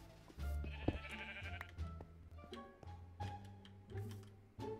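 Sheep in the Minecraft-style game LAGCraft bleat several times in quick succession, close and clear, with small clicks and game effects between the calls and no talking.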